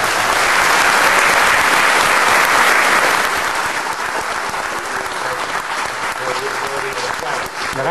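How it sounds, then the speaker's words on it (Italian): Sustained audience applause fills a presentation hall at an Italian event about an experimental engineering department, dense and loud throughout, easing slightly toward the end. "non merito tanti applausi"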